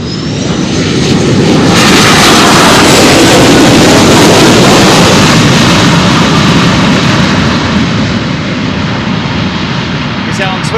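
A UPS freighter jet lands at Louisville with a thunderous, sustained roar of thrust reverser and engine noise, very loud and near, swelling after the first seconds and holding for a long stretch.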